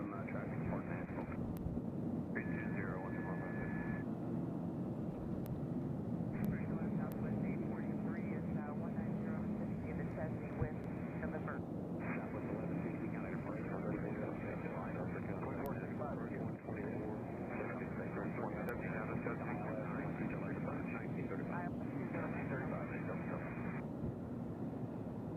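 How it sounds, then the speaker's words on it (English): Steady, broad engine roar of an airplane approaching to land at Nashville International Airport, continuous and fairly loud throughout with wind buffeting the microphone and a voice talking over it. "Well, it looks like the plane's coming in over Hermitage,"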